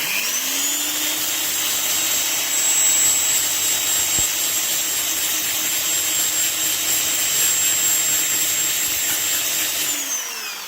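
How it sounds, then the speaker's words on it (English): A file sander works over hard filler on a Pontiac Firebird interior part, a steady high-pitched motor whine with a gritty abrasive rasp that holds loud and unbroken for about ten seconds, then winds down at the end. "if you use a file sander like this"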